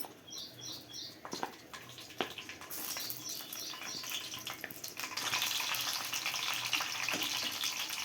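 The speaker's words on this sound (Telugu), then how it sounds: "నూనె వేడెక్కిందండి పచ్చిమిరగలు వేసుకుంటున్నా" Green chillies hit hot oil and crackle in a rising sizzle that starts faint with a few light ticks, then swells into a steady, louder hiss.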